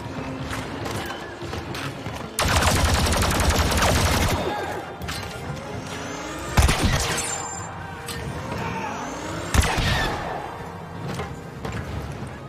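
Blaster and gunfire crackle in Star Wars Battlefront II combat, with a dense volley followed by scattered sharp shots, mechanical clanks and whooshes. The sounds stay close and fairly loud.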